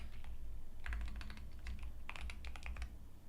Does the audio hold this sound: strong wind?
no